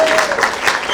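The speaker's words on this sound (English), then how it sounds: "This is the part where you applaud" A brief burst of audience clapping at a game developers' summit talk, loud and close, lasting under a second.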